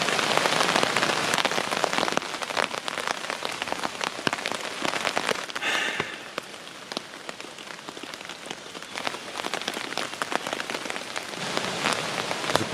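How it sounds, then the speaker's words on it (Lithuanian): Rain falling on a shelter on an island, a continuous patter of drops drumming on the surface with brief gusty lulls, near and fairly loud, with no voices. "Dabar lyja."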